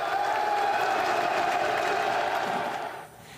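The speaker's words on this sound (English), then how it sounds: "There was a burst of applause as the Pope arrived" A burst of applause and cheering from a crowd greets Pope Francis, 88, arriving at a Roman prison on a pre-Easter visit; dense, steady clapping fills most of the clip before thinning near the end.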